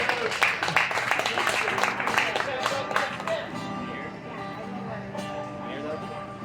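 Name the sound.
audience applause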